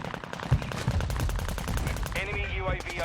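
Rapid automatic gunfire from the Warzone 2 video game, loud bursts of shots with game sound effects and a brief in-game voice line, no talk over it.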